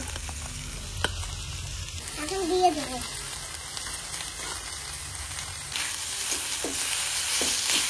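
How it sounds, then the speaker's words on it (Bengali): Drumstick (moringa) leaves frying in oil in a pan make a steady, rain-like hiss and crackle that grows louder toward the end. A voice speaks briefly and a few light clinks are heard. "সজনে পাতা ভাজা হয়ে গেছে"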